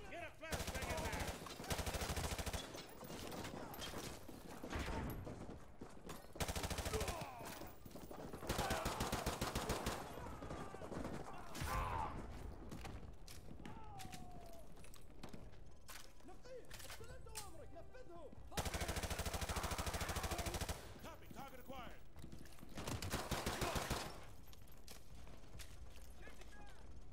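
Heavy video game gunfire in a tactical shooter firefight at a school, with repeated bursts of automatic weapons, loud clustered volleys alternating with quieter gaps and battle noise throughout.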